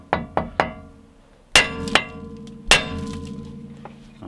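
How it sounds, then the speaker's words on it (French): A hammer strikes a nut threaded upside down onto a steering ball joint of a Jeep Grand Cherokee: three quick metallic clangs, then two louder ringing blows spaced apart, close and without talk. "je remets l'écrou dessus à l'envers et je tape dessus."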